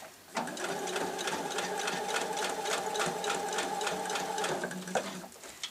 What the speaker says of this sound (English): I'm literally sewing a square all the way around the tab